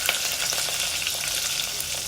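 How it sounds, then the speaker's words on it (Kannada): Curry leaves fry in a pan with a loud, continuous crackling sizzle heard up close, steady throughout and without any talking. "ಫ್ರೈ ಮಾಡ್ತಾಯಿದ್ದೀನಿ."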